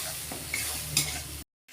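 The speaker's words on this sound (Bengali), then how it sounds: "মশলাটা ভালোভাবে ভেজে নেব।" Masala spice paste frying with salt and turmeric for tel koi, a close, steady sizzle with a couple of stirring scrapes, then abruptly cut to silence before resuming briefly.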